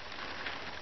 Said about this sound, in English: the rain has put a damper on my project. It's starting to pick up